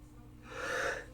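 A single sneeze-like burst of breath rises and fades, preceded by quiet breathing, close and moderately loud.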